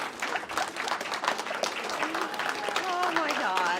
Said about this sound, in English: So let's clap Pushpa up, and I really appreciate you being here for her